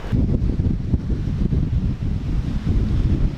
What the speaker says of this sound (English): It doesn't feel as cold as it did when we were closer to land, but it is certainly windy.